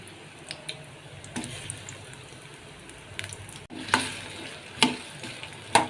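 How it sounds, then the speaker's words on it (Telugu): Chopped onion pieces fry in a couple of ladles of oil for a gongura chutney, a steady low sizzle with occasional stirring scrapes and a few sharp clicks of the spatula against the pan. "ఇవి కొంచెం బ్రౌన్ కలర్ వచ్చే వరకు వేగనిద్దామండి"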